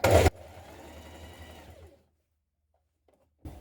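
A sewing machine runs a steady stitching line along a sweatshirt neckband seam, humming evenly for about two seconds before stopping, with a brief clack at the start and a faint click at the end.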